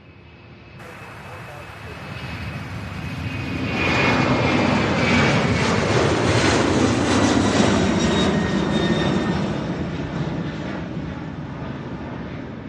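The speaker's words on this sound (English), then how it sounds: "So we're about to get an MD-11" A departing MD-11 jet airliner at Louisville's SDF airport, its engine roar swelling from a distant rumble to a loud, sustained broadband rush before slowly fading, with no talk over it.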